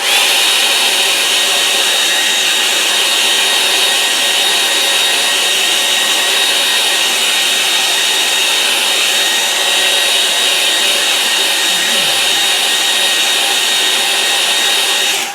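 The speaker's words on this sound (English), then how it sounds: "now I'll give that a dry with the hairdryer" A hair dryer blows continuously, a loud, steady, close-up whooshing roar that fills the whole stretch with no pauses.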